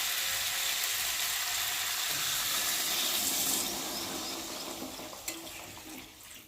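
Water poured into a hot pan of potato and eggplant curry with fish gives a loud, steady hissing sizzle that eases slightly near the end, broken by one brief knock.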